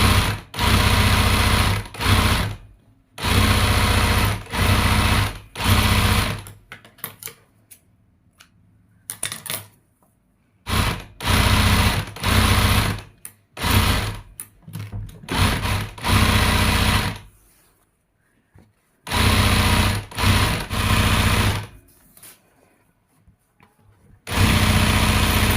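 A sewing machine zigzag-stitching cordon rope into a tissue box, heard as loud, rapid mechanical runs broken into repeated short bursts and pauses of varying length.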